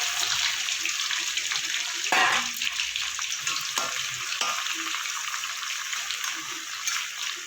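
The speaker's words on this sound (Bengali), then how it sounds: "মাছের মাথা যেহেতু অল্প, তাই একসাথে আমি ভেজে নেব।" Fish heads frying together in hot oil for a Bengali potato, pointed gourd and prawn curry give a steady, close crackling sizzle, broken by a few brief clatters and stirs, with no speech.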